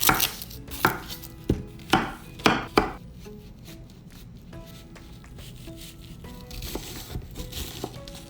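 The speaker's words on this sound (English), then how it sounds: "we're gonna chop our onion" A knife chopping an onion on a cutting board: about seven sharp, loud chops in an uneven rhythm, then quieter rustling and light scraping while the pieces are handled, followed by a few softer cuts.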